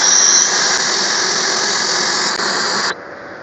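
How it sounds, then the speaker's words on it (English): Air hisses loudly and steadily out of a vehicle tyre through a deflator tool, a close, harsh rush that holds for about three seconds before cutting off abruptly. "So you just pull that out and it releases all the air."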